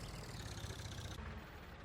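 A tractor engine idles in Farming Simulator 22, a low, steady mechanical hum that stays even and fairly quiet throughout.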